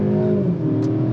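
A Mercedes coupe's engine drones loud and close under hard acceleration, holding a steady, strained tone through a brief moment with no voices present.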